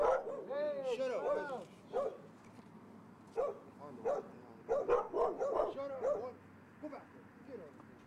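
A dog barks outdoors at night, a run of fairly loud barks and yips in bursts, some sounding whiny, with a voice talking between and over them.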